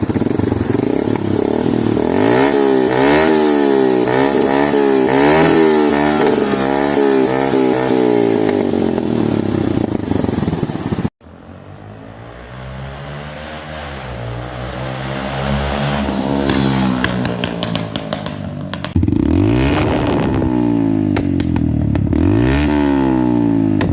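A modified Yamaha FZ V1 motorcycle, converted into a scrambler with an aftermarket air filter, revs loudly and repeatedly close by, its exhaust note rising and falling in throaty surges, cutting out briefly and then climbing again in sustained roaring revs.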